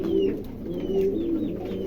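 King pigeons cooing at close range, with deep, rolling coos repeating in a steady pattern and faint chirps from other birds behind them.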